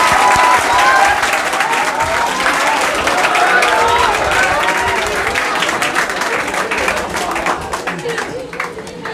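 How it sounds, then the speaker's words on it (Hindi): A crowd at a biology coaching event in Bhagalpur greets Prabhat Sir with loud, sustained clapping, and voices and faint cheers are mixed in as the applause slowly tapers off. "एक बार जोरदार तालियों से स्वागत कीजिए सर।"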